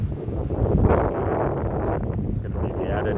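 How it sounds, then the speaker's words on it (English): Wind blows in a park, a continuous low buffeting roar that hits the microphone, while someone talks over it. "very windy right now"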